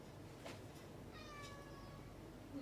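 A faint, short cat meow over a quiet background hiss, heard once near the middle.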